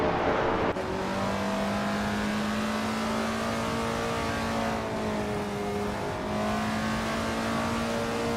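A 1969 Chevrolet Camaro ZL1 roars in a vintage racing video game, its engine holding a loud, sustained drone with rising rev pitches and a gear-change dip, other cars blending into the continuous din.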